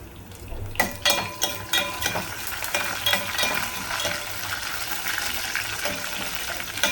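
A spoon stirs grated ginger pieces frying in a pan for rava upma, with a series of sharp scraping taps against the pan over a continuous sizzle, and no voices.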